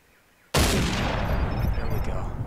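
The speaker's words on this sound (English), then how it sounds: "Okay, gonna take a shot. Gonna pump another bullet in him." A single loud rifle shot fired in the hunting video game Cabela's Big Game Hunter, a sudden close blast with a dense rumbling tail that keeps ringing and echoing after it, with no speech over it.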